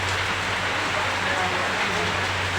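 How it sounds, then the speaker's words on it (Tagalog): Heavy rain pours in a dense, constant roaring hiss close by, steady throughout with a low hum underneath and no pause. "lakas ng ulan"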